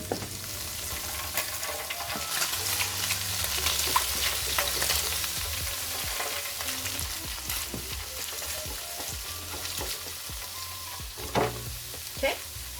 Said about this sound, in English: I am now going to shake the pork belly bites.